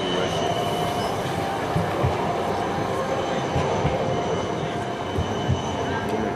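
A tram rolls along a street in Bern, a loud continuous rumble of wheels on rails with faint squealing, passing close by, and a voice talks faintly beneath it.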